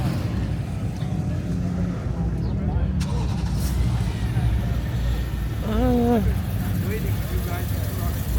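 A classic Chevrolet Corvette Z06 rumbles steadily with a deep, continuous engine note as it moves through a cars-and-coffee meet, heard under constant nearby talk and general crowd noise.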